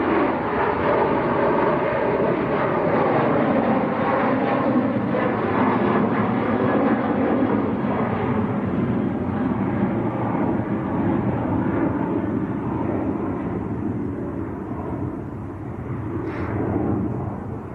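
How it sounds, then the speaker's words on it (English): A KLM Boeing 737 airliner departing Manchester Airport for Amsterdam, a steady loud broadband jet roar sustained throughout, slowly fading toward the end with no voices. "KLM to Amsterdam"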